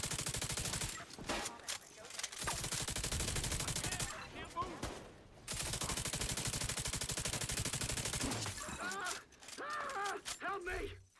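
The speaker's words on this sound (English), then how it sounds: "That thing is spitting bullets out." Rapid, high-RPM gunfire in The Division 2 during a game event, with dense bursts of shots and short pauses, loud and close, with voices talking over parts of the firing.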